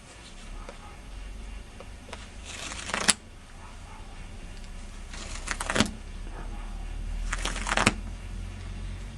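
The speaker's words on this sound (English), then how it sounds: "We're going to do now very light drags over bunched denim." A knife blade, a bat-edge folder prototype, is dragged lightly over bunched denim, producing three quiet scratchy swipes spaced a few seconds apart over a faint background hum.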